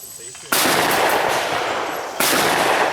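Two loud, sharp blasts from a CZ Drake 12-gauge over-under shotgun at outdoor clay target shooting, each followed by a lingering decay, spaced about one and a half seconds apart.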